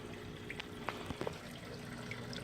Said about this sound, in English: that's the drip